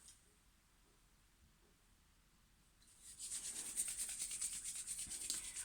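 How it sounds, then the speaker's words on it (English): Hands rubbing together, beginning after a quiet stretch and then continuing as a steady, close, brisk swishing friction with a quick back-and-forth rhythm. "rub your hands together."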